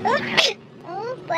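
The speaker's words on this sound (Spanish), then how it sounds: "Mi estornudadera." A woman sneezes once, sharp and close, at a shop entrance, with brief voiced sounds just before and after.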